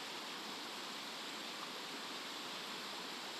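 A flooded river pours past in a steady, dense broadband rush, a loud continuous roar of water with no pauses or voices over it.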